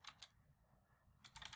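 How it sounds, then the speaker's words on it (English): Quiet keystrokes on a computer keyboard come in two brief clusters of rapid clicks separated by a short pause, close and soft, with no speech. "I can start typing"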